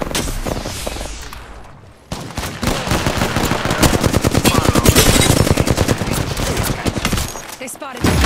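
Rapid automatic gunfire in the video game Apex Legends, a dense rattling stream of close shots after a short quieter lead-in, loud and sustained, with some voice chatter mixed in.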